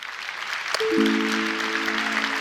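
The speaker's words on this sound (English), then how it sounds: "Would you please welcome to the stage with a huge round of applause some Trellis team members." Applause from a conference audience at VERGE 2024 as team members are welcomed onto the stage, a steady broadband clatter that swells while sustained musical tones come in underneath.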